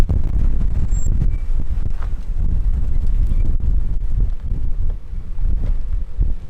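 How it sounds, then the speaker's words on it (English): Strong desert wind buffets the microphone in a loud, continuous low roar with gusty swells, out in open desert country unsuited to overland vehicles. "the wind is the worst I've experienced all week"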